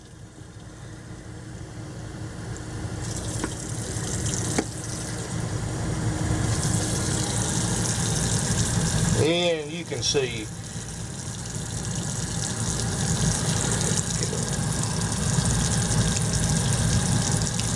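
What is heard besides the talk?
water running from a faucet in a motorhome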